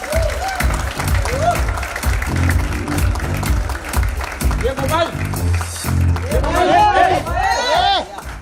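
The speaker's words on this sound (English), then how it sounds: "Big round of applause." A crowd at a celebrity promotional event applauds and cheers as guests come on stage, a loud, continuous wash of clapping and excited crowd noise under an announcer's amplified voice and scattered shouts.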